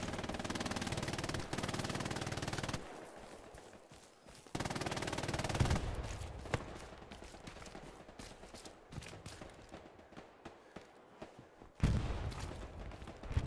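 Gunfire aimed at the player in a World War II shooter game on the Hill 400 map, sustained bursts of machine-gun fire that stop, resume, then break into scattered close shots with a final loud burst.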